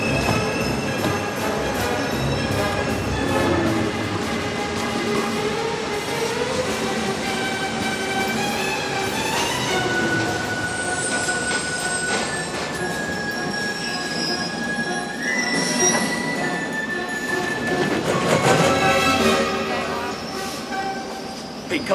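A New York subway train during a film chase scene roars loudly and steadily, with piercing wheel squeals and shifting metallic tones over continuous rumbling and blended music, growing more intense toward the end.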